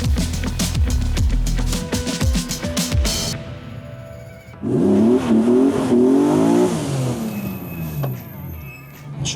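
A car launches from a standing start in a timed acceleration run, with close mechanical revving and clatter first, then a loud engine note climbing through gears that fades as it pulls away.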